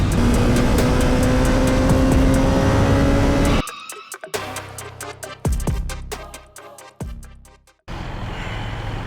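A 2025 BMW S1000RR M Sport edition motorcycle is ridden on the road, its engine roaring steadily and loud, then dropping away into quieter revving with sharp gear-change pulses and bursts before rising again.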